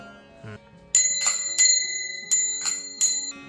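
A handheld bell used for kirtan devotional singing in a village, rung in several bright, ringing bursts with a long shimmering sustain, close and fairly loud after a soft opening tap.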